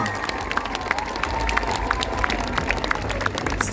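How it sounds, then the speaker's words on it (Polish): An outdoor concert crowd at a show in Gniazdów claps and cheers for the band, a continuous bed of applause with sharp individual claps poking through, voices mixed into the noise. "wielkie brawa!"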